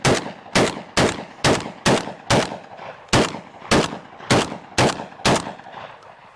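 Eleven sharp, loud shotgun blasts from a Black Aces GT9 fitted with a drum magazine, fired in a steady, fairly quick rhythm, each crack ringing off briefly before the next, with no talking.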